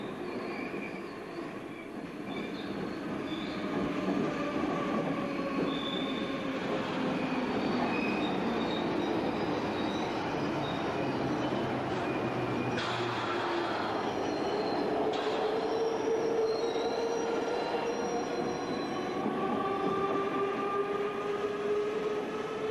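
A Calcutta metro train runs through the tunnel with a steady rumble, and wheel squeals and screeching tones rise and fall throughout as it moves, loud and continuous, with no one talking.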